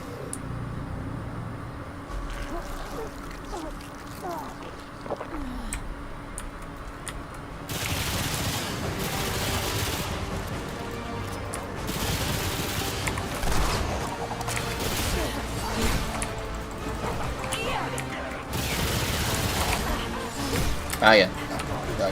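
Gunfire from fights with enemies in the game Remnant 2 crackles in repeated bursts and volleys, loud and close, with someone talking throughout.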